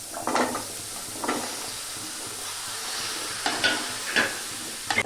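Pumpkin sizzles steadily in a pan for a stir-fry under a constant hiss, with several scraping stirs at irregular intervals.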